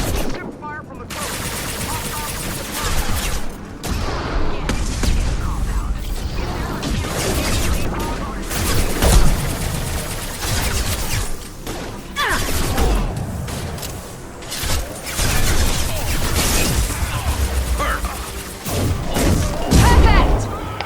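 Gunfire from the coast in the Mass Effect 2 video game: dense, continuous bursts of shots and booms under a loud music and effects mix for about twenty seconds, with voices speaking at times.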